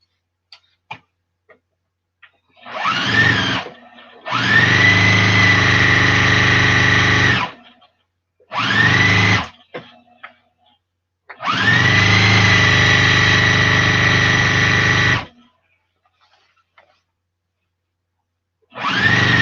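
A sewing machine stitches a quilt backing for a farmhouse-style table runner, running in four loud sustained bursts of varying length separated by short silences, close and steady with a whirring motor tone.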